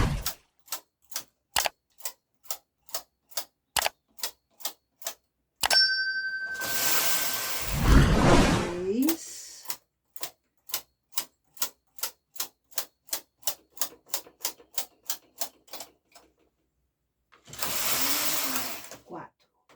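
A knitting machine's carriage knocks along in a regular series of sharp clicks, broken by two longer rushing sweeps as it moves across rows of knitted sleeves, with a person talking in between.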